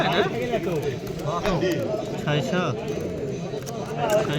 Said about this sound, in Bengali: বিউটি হোমার কবুতর অনেক সুন্দর